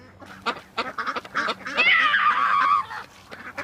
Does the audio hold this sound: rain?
no